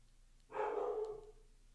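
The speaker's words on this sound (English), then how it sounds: "Why are the dogs barking so much?" A single short dog bark rings out at moderate distance, trailing off quickly into quiet background.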